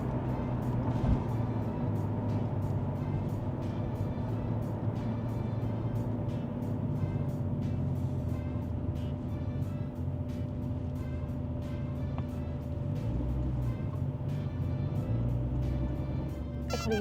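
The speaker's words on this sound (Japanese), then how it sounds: "めっちゃ車多い。" Steady road noise from busy general-road traffic heard from inside a moving air-cooled Porsche, a continuous low rumble and hum of engines and tyres with no talk.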